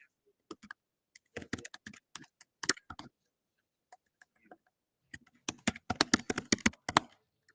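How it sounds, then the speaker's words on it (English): Typing on a computer keyboard during a live call session, heard as scattered bursts of sharp key clicks with short pauses, growing into a dense rapid run of keystrokes near the end; close and moderately loud, with no talk. "I hate typing because I'm not very good at it."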